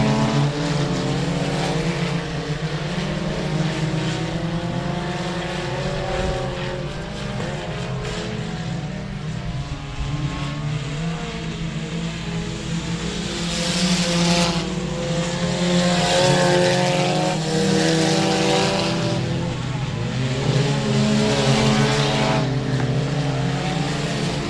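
Four-cylinder race cars battle side by side for the lead in an A main at Speedway of Texarkana, their engines whining and droning loudly as they pass, rising and falling in waves over the whole stretch.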